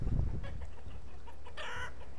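Chickens cluck in the village-building game Banished, with a brief burst of low clucking at the start followed by a short bright squawk, over a quiet ambient game background.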